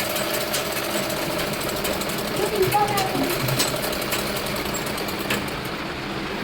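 A sewing machine runs steadily, stitching a double seam on a child's nightdress, giving a continuous fast mechanical whir and rattle up close, with a voice talking over it.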